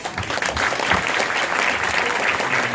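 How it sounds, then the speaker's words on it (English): Audience applause fills the room, a dense continuous wash of many hands clapping at steady loudness for nearly three seconds. "So give yourselves a big round of applause."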